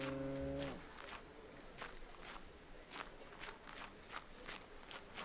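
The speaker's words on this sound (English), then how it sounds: "Yeah, it's definitely the ox." An ox in the Manor Lords video game gives a single drawn-out low moo at the start, then rhythmic hoof steps thud along at a walking pace, fairly close and moderately loud.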